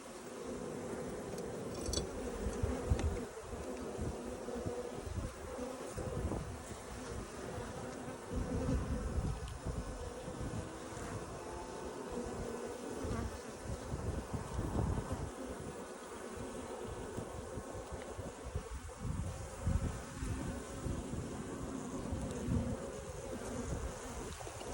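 A large honeybee colony being removed from a structure fills the air with a dense, continuous buzzing swarm sound, close and steady throughout with fluctuating intensity and no speech.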